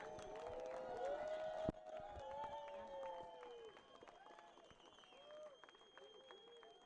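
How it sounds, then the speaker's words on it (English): A crowd at an adaptive surfing world championship gives light, scattered applause for Team Chile, sparse claps and distant voices in an open outdoor setting, with a sharp clap near the start and a slowly thinning tail. "Give them a round of applause."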